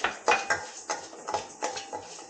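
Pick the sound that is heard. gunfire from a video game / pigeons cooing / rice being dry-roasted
rice being dry-roasted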